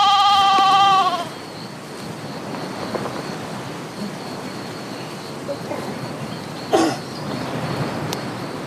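A single drawn-out bleat from sheep or goats at a Himba settlement rings out at the start, followed by quieter outdoor ambience with another brief animal call later.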